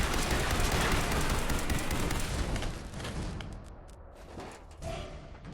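Gunfire in the Fallout 4 video game, dense, loud and continuous bursts that fill the first half and thin into scattered shots and thuds toward the end, with no talking.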